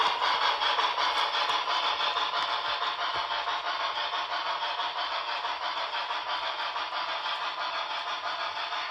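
Broadway Limited PRR B6sb model locomotive running in reverse on a layout, giving a steady, fairly loud sound-system engine roar with a faint rattle, unbroken and without talk.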